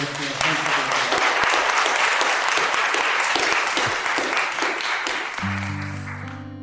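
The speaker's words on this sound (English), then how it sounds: "A round of applause for everyone here." Audience applause rings out after readings at the Cleveland Inkubator literary festival: loud, dense clapping for about five seconds that thins out as a voice and a steady tone come in at the end.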